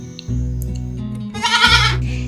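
An old goat in an animated African folk tale lets out one loud, drawn-out bleat near the end, over a low steady musical drone.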